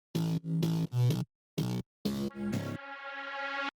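Pitched synth bass shots built in Massive, several short tonal stabs separated by gaps, then one longer sustained tone rising slightly in pitch, loud and isolated with no talk.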